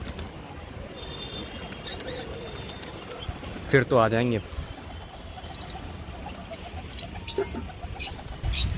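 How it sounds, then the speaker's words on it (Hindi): Pigeons gather to feed on grain, with a brief burst of wing flapping and soft bird calls in the open air, while people talk nearby throughout. "और गाइस देखो जो तांबड़ा कबूतर है ना कनाक में, ये भी आ गया तुरंत दाना खाने के लिए।"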